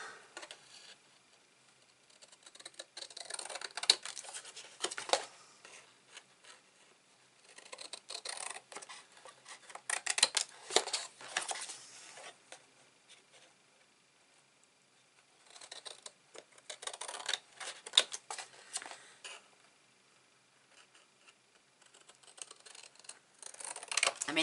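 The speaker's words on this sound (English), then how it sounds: "Now I can trim." Paper for a hardcover notebook is trimmed in several short, quiet bursts of snipping and cutting separated by pauses, close and soft with no voices.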